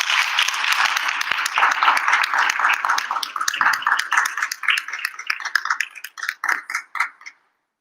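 Audience applause at a live Bharatanatyam arangetram, a dense burst of clapping that thins into scattered individual claps before stopping.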